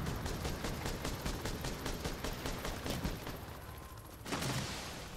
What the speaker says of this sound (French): J'ai activé la tourelle.